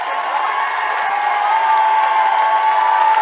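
A large crowd at a Trump campaign rally in Latrobe, Pennsylvania gives sustained applause and cheers, with loud, continuous clapping and scattered whoops.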